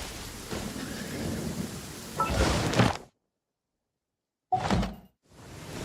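A thunderstorm in the video game Genshin Impact brings steady rain and rumbling thunder that cut off abruptly twice and then return, with no one speaking over it.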